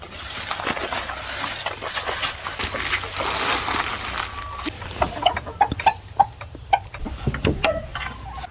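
Backyard chickens cluck in a series of short, sharp calls toward the end, following a stretch of rustling and outdoor background noise, fairly close and moderately loud.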